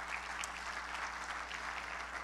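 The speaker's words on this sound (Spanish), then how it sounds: "Denle un aplauso al Señor" A church congregation applauding together, a dense, continuous clapping that is moderately distant and even throughout, with no voice standing out.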